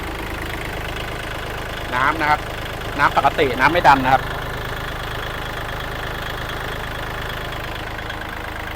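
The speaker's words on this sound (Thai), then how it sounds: "เครื่องยนต์นะครับสตาร์ทติดง่ายนะครับ เสียงเครื่องปกตินะครับ" A used L3218SP tractor's engine idles with a steady low, even drone throughout, while someone talks over it in short bursts.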